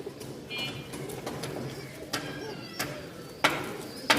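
Pigeons being handled at a pigeon sale, with bursts of wing fluttering and struggling and soft coos, close by over a low background murmur.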